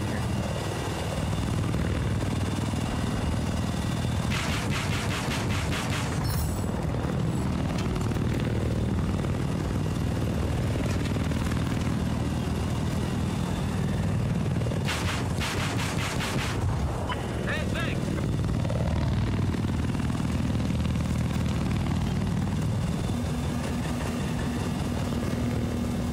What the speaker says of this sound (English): today we're going to be taking a look at Battlefield 4, rolling around on an attack chopper